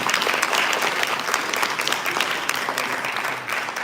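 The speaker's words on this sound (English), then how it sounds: "Big round of applause for him." Conference audience applauding a panelist called to the stage: dense, steady clapping from a large room that holds evenly throughout and tapers slightly at the end.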